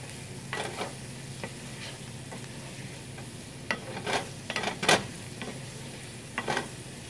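Chopped garlic stirred into a hot, sizzling pan during preparation of a meat sauce, with a steady soft sizzle broken by several scraping stir strokes and light clicks of a utensil against the pan.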